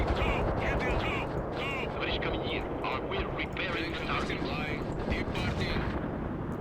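Battlefield explosions and artillery in the video game World in Conflict: Soviet Assault form a dense, continuous rumble with rapid bursts of gunfire layered over it, while someone talks throughout.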